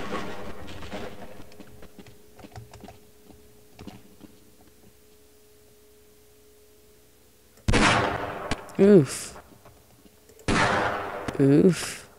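Revolver gunshots in the Half-Life: Blue Shift video game, two sharp loud blasts a few seconds apart after a long quiet stretch, each with a ringing tail.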